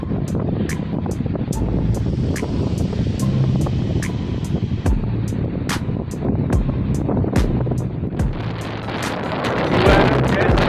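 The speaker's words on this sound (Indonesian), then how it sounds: "Namanya laut, angin pasti kencang" Strong wind at sea roars steadily as a loud, constant rush into the microphone, rising slightly toward the end, with faint rhythmic ticking beneath it.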